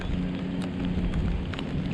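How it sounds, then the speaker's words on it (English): Rain falls during a kayaking trip on the Mississippi River, heard as a steady, dense patter with low rumbling noise underneath and occasional sharper drops, continuous throughout. "It's raining again."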